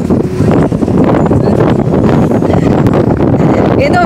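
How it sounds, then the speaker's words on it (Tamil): Strong wind gusting across the open deck of a Sydney ferry, a loud, constant roaring buffet that batters the microphone throughout. "காற்று திடீர்னு வேகமாக அடிக்க ஆரம்பிச்சிருச்சு"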